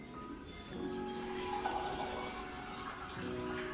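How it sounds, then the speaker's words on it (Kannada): Two large glasses of water go into a cooking pot for coriander pulao, a soft steady splashing and trickling pour heard faintly and close for a few seconds. "ಇದಕ್ಕೆ 2 ಗ್ಲಾಸಷ್ಟು ದೊಡ್ಡ ಗ್ಲಾಸಲ್ಲಿ ನೀರು ಹಾಕ್ತಿದ್ದೀನಿ"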